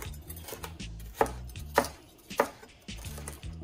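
A knife chops vegetables for pasta on a cutting board, crisp rhythmic strokes with several sharper, louder knocks, close up and with no talking.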